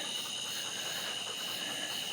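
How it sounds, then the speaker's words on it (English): Tree frogs call at night beside a country road, a dense continuous chorus of high trilling held steady at moderate distance with no talking. "And you can hear all the tree frogs."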